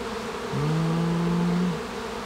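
Honeybees buzzing on a hive frame during an inspection, one bee's drone rising close to the ear for about a second over a faint background hum, with no talk.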